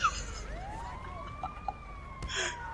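An ambulance siren in GTA V wails with a rising, sweeping tone, fairly close, over street and traffic noise.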